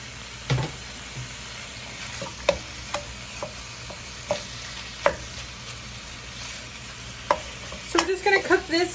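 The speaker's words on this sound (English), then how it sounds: "Just going to break up these onions a little bit. Let them cook with that hamburger meat." Onions and hamburger meat sizzle steadily in a pan, and a spoon scrapes and clicks as it stirs and breaks them up. The scrapes come in scattered irregular strokes over a low, constant fry, with a busier burst of stirring at the end.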